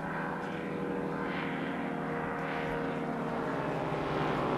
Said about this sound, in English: In due course, the sound of a distant engine heralds the return of Dr. Fritz with Isabel.